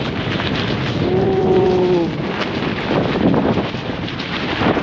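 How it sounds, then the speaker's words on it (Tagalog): Strong, steady wind roars and buffets a tent at a mountain campsite close to the microphone, with a low rumbling flutter throughout and no talking. "Tigil naman siguro yung hangin."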